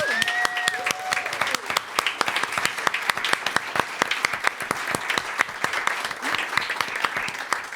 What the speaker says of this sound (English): another big round of applause for your volunteers here tonight